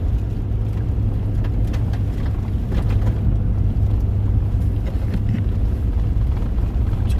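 Car driving over a rough snow-covered road during a Michigan winter storm, constant loud low engine and tyre rumble mixed with wind buffeting, with occasional thumps.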